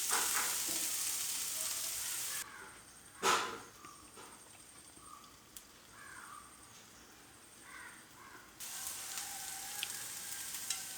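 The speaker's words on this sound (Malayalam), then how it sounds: "ഇടയ്ക്ക് ഇതൊന്ന് നമുക്ക് നന്നായിട്ടൊന്ന് ഇളക്കി കൊടുക്കാം" Green chilli tamarind curry sizzles faintly in a pan as it is stirred, with a few soft scrapes, a louder knock and brief crow-like calls in the background.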